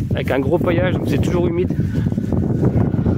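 Wind buffets the microphone outdoors in a mulched vegetable garden in September, a low, gusty rumble running beneath a person speaking.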